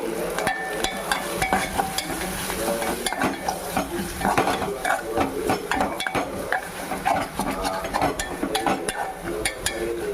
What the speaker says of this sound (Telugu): జీడిపప్పు వేసుకుందామండి.